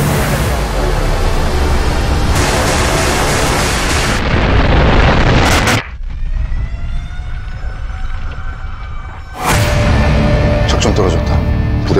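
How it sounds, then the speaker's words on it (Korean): A cinematic volcanic eruption at Baekdu Mountain blasts out as a massive, loud rumbling explosion, breaks into a sudden near-silent gap with a lingering tone, then the roar surges back. "백두산 화산이 폭발했습니다."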